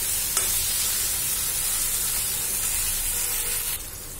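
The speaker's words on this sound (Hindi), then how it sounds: "अब इसे हम हाई फ्लेम पे 1 मिनट के लिए पकाएंगे ताकि अंडे भी इसके साथ फ्राई हो जाएं" Eggs fry in masala gravy over a high flame in a dhaba-style egg curry, giving a continuous close, loud hissing sizzle that eases off near the end, with no voices.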